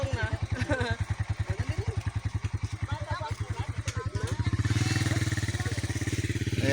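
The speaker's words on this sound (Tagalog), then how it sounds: "Dito lang yung mga motor mga idol." Motorcycle engines putter and rev nearby, a rhythmic low throb that swells as a bike draws closer, with voices talking over it.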